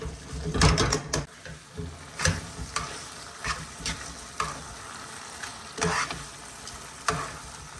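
Puttanesca sauce with olives and capers stirred in a pan, bursts of wet scraping and clattering spoon strokes over a low simmering sizzle, close and fairly loud, without speech.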